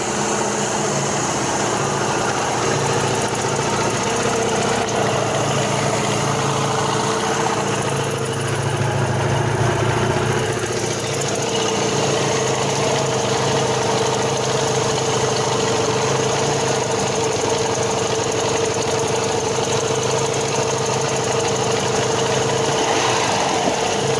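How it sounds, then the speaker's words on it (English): A 1970 Mercury 650 outboard boat motor runs on a mix of regular gas and Seafoam, a loud steady engine drone with a buzzing mechanical rattle, close and continuous with no voices. "this is the last thing I'm doing with the motor. I'm just running it with seafoam."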